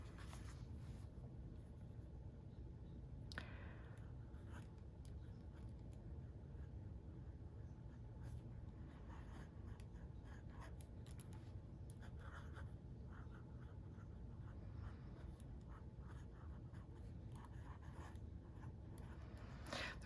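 Fountain pen nib scratching over delicate, translucent onion skin paper, a faint, close, continuous scratchy stroke sound with a few sharper taps between strokes, quiet and alone.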